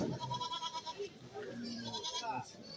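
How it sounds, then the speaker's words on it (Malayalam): Goats bleat at a goat market in Kerala, with several short, wavering cries close by over a busy background, and people talk nearby. "ഒരു നല്ല കിടിലൻ മുട്ടനാടുകളാണ് ഇതാ ഇവിടെ നിൽക്കുന്നത്"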